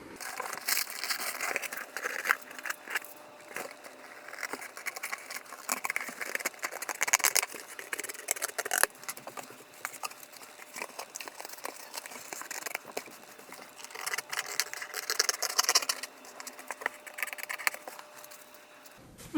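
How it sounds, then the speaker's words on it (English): Cardboard box being cut along marked lines to remove its front panel, a close, steady crinkling and scraping that stays rough and textured throughout with no voices. "I'm just gonna cut out the front of the trailer here. So I'm gonna cut along these lines."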